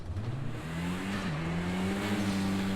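Mercedes AMG A45 touring car racing at Knockhill in Project CARS 2, a loud engine revving up through rising and dipping pitches with a steady drone beneath, close and continuous.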